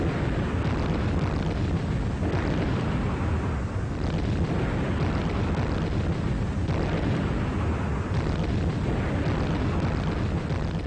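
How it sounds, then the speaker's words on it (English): Bombs exploding in a wartime air raid over Germany: a dense, continuous roar of heavy booms and rumbling blasts that overlap without pause for the whole stretch, loud and close, with no voices. "When those bombs hit, you feel the vibration through to your heart."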